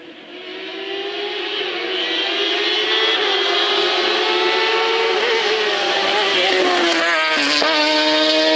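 A BRC Proto CM race car with a 1000 cc motorcycle engine screams up a hill climb course at Chamrousse, a loud sustained high-revving howl that shifts pitch with gear changes, with faint commentary underneath.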